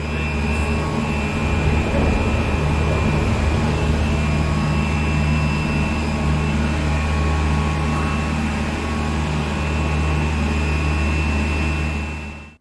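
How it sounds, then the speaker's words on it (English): Ropeway gondolas roll into the station beneath a large red bull wheel while the drive motors run. A loud, steady mechanical drone and hum hold unbroken throughout, with no voices. "As we stand here, the three remaining gondolas are just arriving."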